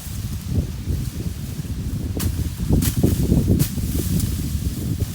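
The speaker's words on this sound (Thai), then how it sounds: "ลมแรงเหมือนเดิมจ้า" Strong wind sweeps across a grassy field, giving a continuous low buffeting roar with a few sharper gusts and rustles, and no voices.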